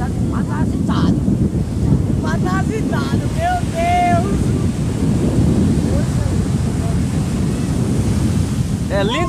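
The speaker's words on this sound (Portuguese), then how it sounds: "A gente ouvindo essa voz do mar." Sea waves rolling onto a beach make a loud, steady surf roar with wind buffeting the microphone, while several people talk and exclaim over it throughout.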